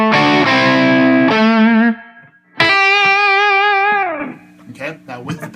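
Electric guitar playing a solo without the pitch-shift pedal: loud sustained bent notes with a distorted edge and a short pause between phrases, followed by a brief voice near the end.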